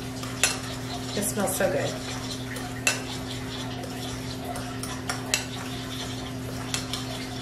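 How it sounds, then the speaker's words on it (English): A spoon stirs cinnamon and sugar together in a bowl, with a few light clinks and soft scraping over a steady low hum; someone speaks briefly. "And I'm just going to stir this together."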